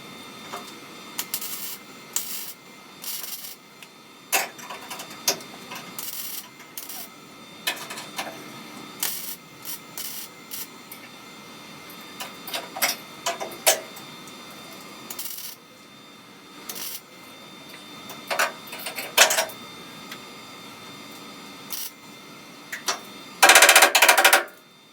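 Welding a crack in a Porsche 356 fender gives irregular crackling bursts, short sizzling spurts separated by pauses over a low background hiss, with no talking.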